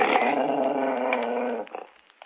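A dog growls low and steady at a door in an old radio drama, rumbling close for over a second before trailing off into a few faint scrapes.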